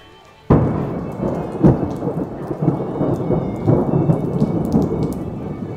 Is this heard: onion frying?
no